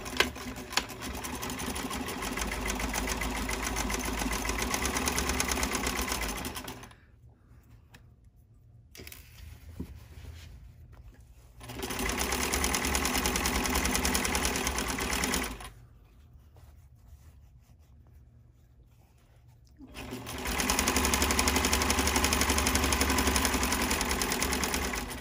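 A sewing machine stitches boxers in three long, fast, buzzing runs, each several seconds, separated by quiet pauses while the fabric is repositioned; loud and close.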